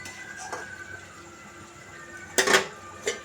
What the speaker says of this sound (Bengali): মাছগুলো দিয়ে আস্তে আস্তে নাড়াচাড়া করবো।